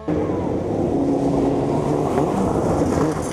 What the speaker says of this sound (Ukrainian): Ревіння моторів, каміння з під коліс